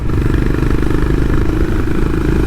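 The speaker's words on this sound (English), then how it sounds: "the exhaust note of the bike just adds to it" A loud, continuous Honda CB350RS motorcycle engine rumble, steady and close, with a throaty low exhaust tone and no talking, on narrow village roads.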